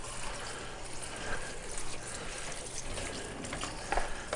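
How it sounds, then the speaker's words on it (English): Running water from a kitchen tap splashes over a head of lettuce being washed for a Korean-inspired salmon dish, a steady close broadband wash with small splashes near the end and no talk. "Go ahead and wash up the lettuce."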